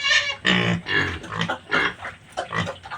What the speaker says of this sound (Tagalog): Barakong baboy.